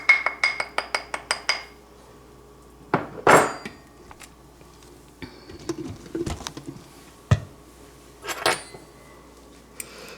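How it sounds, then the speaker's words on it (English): A spoon stirring cream style corn with fried Spam in a pot, then serving into a bowl: a rapid series of close metallic clinks followed by scattered scrapes, taps and knocks. "I'm gonna go ahead and give it another stir. Put just a little bit in a bowl here for us."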